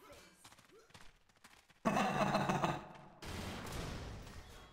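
Gunfire in Zombie Panic! Source: a few quiet clicks and thumps, then two loud, dense bursts of shooting, the second sustained to the end.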